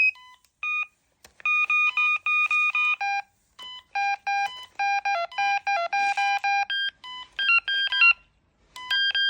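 Electronic fishing bite alarms, a Boya set with six tone, sensitivity and volume modes, give out clear beeps in quick bursts and runs that step between several pitches, with short gaps and no talk.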